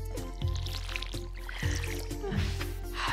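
Watering can pouring water onto crops in Stardew Valley, a soft repeated trickle and pour over steady game music, with short splashy bursts recurring every second or so.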